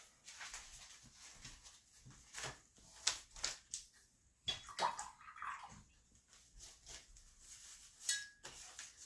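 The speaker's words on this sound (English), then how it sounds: "I'm just going to give my brushes a quick little wash" Paintbrushes swished and rinsed in a cup of water before painting a beach sign, a run of close splashing and sloshing bursts with small clinks, lasting throughout with no talk.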